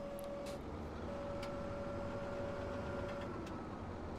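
A John Deere tractor engine idles steadily in the Farming Simulator 17 video game, a low continuous rumble with a thin constant whine on top and a few faint clicks, no talk over it.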